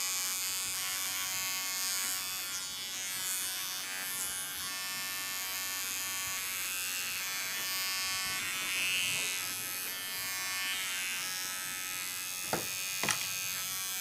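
An electric hair clipper buzzes steadily and close by while cutting hair, a continuous bright drone that runs unbroken, ending with a couple of sharp clicks.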